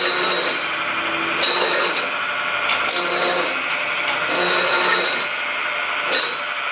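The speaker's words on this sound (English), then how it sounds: "Cycle that a few times to show the brake." A Connecticut 48 inch, 25 ton press brake cycles repeatedly, a steady mechanical drone with regular faint clunks and hisses recurring every second or so in a shop setting.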